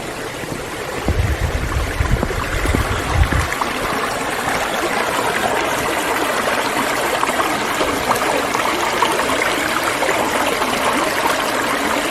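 A creek flows under a bridge on a hiking trail, a steady close babble and trickle of water running continuously, with a few low thumps early on and no talk.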